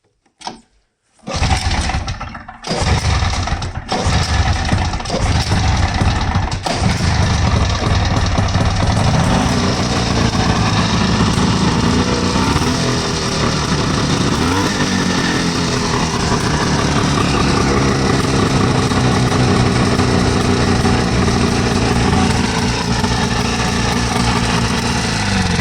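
A Wheel Horse Safari snowmobile engine sputters through a few short bursts before catching and running steadily and loudly for the rest of the stretch, with no speech.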